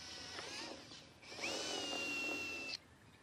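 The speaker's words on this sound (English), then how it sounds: "put it about 8 to 10 centimetres up the side of the pot and drill a hole" A small power drill whines and bites into the thin plastic side of a plant pot, rising in pitch as it spins up, then cuts off abruptly; close and fairly quiet.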